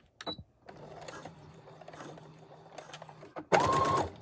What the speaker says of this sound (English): just do the back stitch again